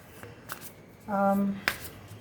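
Oracle tarot cards are shuffled in a short riffle burst, a crisp fluttering rush of about half a second followed by a sharp tap, close and fairly quiet over a still room.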